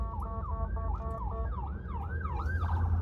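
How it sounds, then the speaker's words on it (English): A wailing ambulance siren sweeps up and down repeatedly, fairly close and steady over low traffic rumble. "An ambulance."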